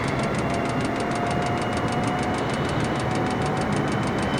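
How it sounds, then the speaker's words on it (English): Jet airliner engines in Microsoft Flight Simulator spool up as the aircraft levels off on autopilot, producing a steady, loud synthetic drone with a faint rapid pulsing whine on top and no speech. "Hear the engines spool up a little more because we're no longer descending."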